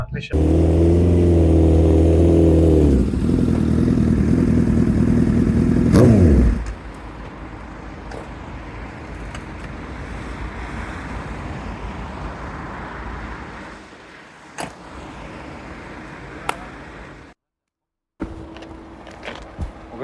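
A Smart car's engine on a test drive gives a loud, steady harmonic hum for about six seconds, then drops to a quieter, rougher rumble with faint background noise.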